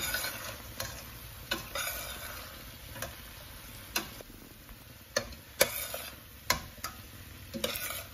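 Vegetable pieces frying in a pan with sambar powder, coriander powder and chili powder, a steady low sizzle broken by sharp clicks and scrapes of a spoon stirring at irregular intervals, close and fairly quiet with no voices.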